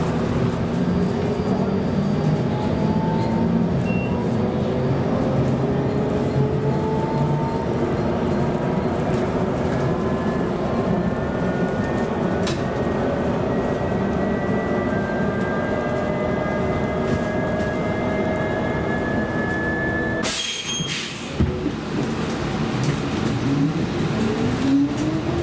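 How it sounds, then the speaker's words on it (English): A New Flyer Excelsior electric bus hums with rising and falling whine tones over road noise, steady throughout, with a brief break near the end. "The New Flyer Excelsior Electrics have got to be the coolest sounding electric buses you will ever hear"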